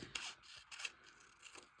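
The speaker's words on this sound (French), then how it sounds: "J'attrape juste une paire de ciseaux. Et là, je vais venir découper un petit peu le cadre ici" Scissors snipping through a paper picture frame for a men's art collage, a few soft, close rasping cuts and rustles at low level, with no talk.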